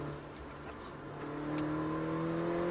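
A Mini car engine revs up steadily on a driving course, its pitch climbing as it accelerates, with a continuous motor drone throughout and no talking.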